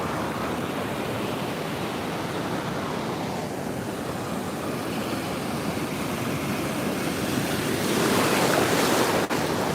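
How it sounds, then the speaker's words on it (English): Ocean surf breaks and rushes steadily in a continuous broadband wash, loud and close, with some wind on the microphone and a surge swelling louder near the end. "the residual effect sends in these awesome waves"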